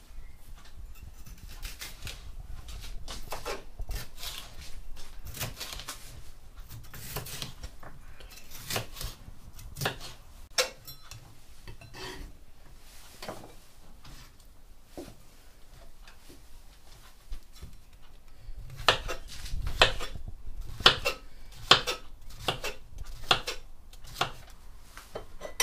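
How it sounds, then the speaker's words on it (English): Knife on a cutting board slicing red pepper and organic mushrooms, a run of sharp, irregular chops and clicks close by, briefly quickening near the end, with no talk. "We've chosen a red pepper and some organic mushrooms,"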